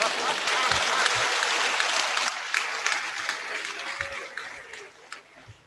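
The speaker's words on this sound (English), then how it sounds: "Somebody should clap for me," An audience at a professor's valedictory lecture claps steadily, the applause dense at first and then gradually thinning and fading toward the end, with scattered louder individual claps.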